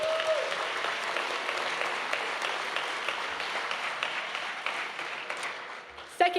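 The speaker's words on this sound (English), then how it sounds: "so let's give them a well-deserved round of applause." Audience applause at an anniversary gala, dense and sustained clapping from a large crowd in a hall that gradually thins toward the end, with a brief voice at the start and again as it fades.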